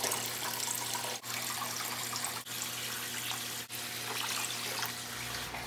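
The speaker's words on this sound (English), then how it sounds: "fill this up with water" Tap water pours steadily into an old 10-gallon glass aquarium tank, a continuous close rushing fill with a few brief dips, before it stops near the end.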